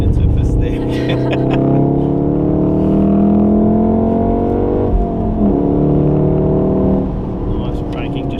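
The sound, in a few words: Golf R car engine accelerating on race track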